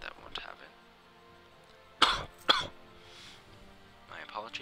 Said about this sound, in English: People need to cough sometimes, I'm sorry.